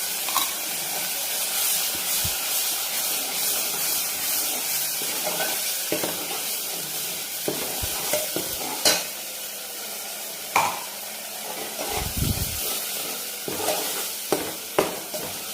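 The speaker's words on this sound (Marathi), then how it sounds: "आणि नंतर जे आपण हे मिक्सर मध्ये वाटण करून घेतलेलं आहे हे वाटण ते टाकू." Ground masala paste sizzling and frying in a pan for a kaleji fry, with steady broadband hiss and scattered scraping stir clicks, close and moderately loud with no talk.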